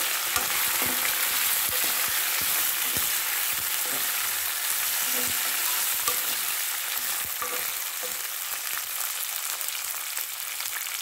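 Red chillies fry in a pan for a mint and tomato chutney, a loud, steady, crackling sizzle with frequent spatula scrapes and taps, close and continuous, with no speech.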